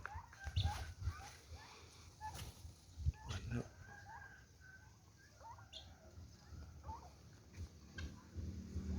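Chickens on a small Thai farm with a flock of around twenty young laying hens, clucking in short repeated bursts over a low rumble of background noise, with a rooster-like call mixed in.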